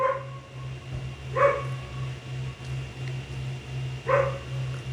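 A dog barks twice, a few seconds apart, over a steady low electrical hum.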